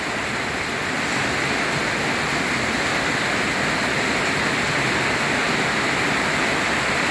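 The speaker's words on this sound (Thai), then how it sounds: "น้ำไหลเข้าบ้าน น้ำไหลเข้าข้างล่าง" Storm water pours into a house during a heavy storm, a loud, unbroken rushing roar of flowing water with no pauses or voices.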